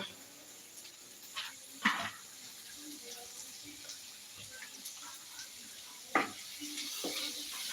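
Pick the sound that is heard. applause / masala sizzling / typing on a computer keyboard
masala sizzling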